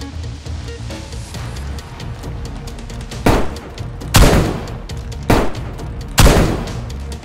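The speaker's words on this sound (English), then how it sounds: "Did I shoot you?" Gunshots in the video game DayZ: four loud, sharp reports spaced about a second apart, each with a short booming tail, over a low, steady ambient rumble.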